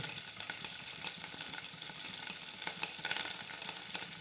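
Cumin tadka for moong dal sizzles steadily in hot oil, a bright, crackling fry with small pops and spatters running continuously, close and fairly loud, with no talk.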